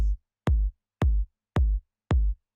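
Five deep, punchy kick drum hits at a steady, evenly spaced house tempo, each with a boomy low thump and quick decay, with silence between.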